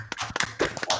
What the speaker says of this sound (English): I have a couple clapping.